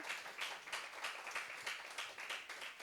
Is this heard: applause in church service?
yes